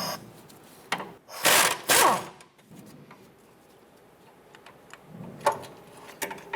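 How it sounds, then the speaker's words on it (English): A wrench works a bolt loose behind the strut of a 2007-2012 Nissan Versa, giving close metallic clicks and ratcheting ticks with a couple of louder clanking bursts and quiet gaps between them. "You can see as I remove that bolt"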